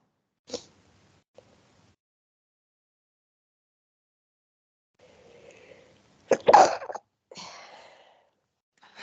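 A single sharp sneeze bursts out in a quiet room, preceded by a soft breath and followed by brief faint sounds, with a click near the start.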